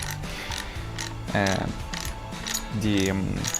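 A drill routs a pickup cavity in a guitar body, giving a whirring mechanical grind with two louder bursts as the bit bites into the wood, close up, with no talking.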